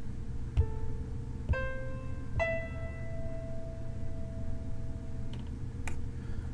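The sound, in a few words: A minor chord played on guitar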